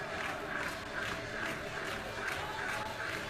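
An enthusiastic crowd cheers and shouts during a dance performance, a dense, sustained roar with rhythmic swells that seem to follow the steps, heard at a distance and fairly loud throughout.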